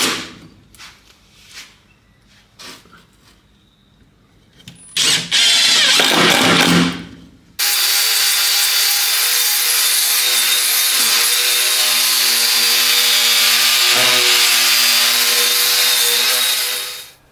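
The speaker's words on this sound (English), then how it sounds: "We're going to have a look at the tabletop getting screwed onto the table" A power drill drives screws to fasten a wooden tabletop onto a workbench: a few short knocks and brief bursts of whirring, then a long, loud, steady whine that runs for about ten seconds.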